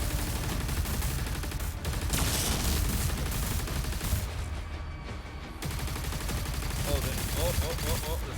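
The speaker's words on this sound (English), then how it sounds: "Plasma gun test in progress." Plasma gun firing in DOOM: The Dark Ages, a dense, continuous stream of rapid energy-weapon shots with heavy low rumble and game sound effects, loud and steady with a brief dip midway.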